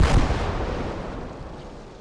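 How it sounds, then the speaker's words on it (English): A single heavy mortar blast in the World War II game Gates of Hell, booming loud at the start and then rolling off into a long, fading rumble with no voices. "They got mortars and something else pumping smoke out here."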